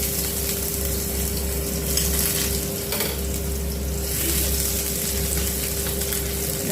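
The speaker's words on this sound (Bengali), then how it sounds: "তেলটা গরম হয়ে গেছে, এখন আমি দিয়ে দেব রসুন কুচিটা।" Finely chopped garlic dropped into a small amount of hot oil for pasta, giving a loud, steady, dense sizzle that holds without a break, over a faint constant hum.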